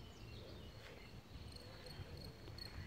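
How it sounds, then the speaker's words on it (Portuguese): Faint, steady high-pitched cricket chirping over a low outdoor rumble beside a river in Locarno, Switzerland, with a few sharper chirps repeating through the quiet background. "Ó, grilo."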